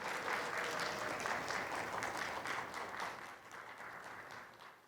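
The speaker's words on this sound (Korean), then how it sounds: "김다운 씨에게 큰 박수 부탁드리겠습니다" Audience applause after a harmonica ensemble's collaborative performance at a Disability Day ceremony, a dense steady wash of clapping that stays strong, then thins slightly toward the end.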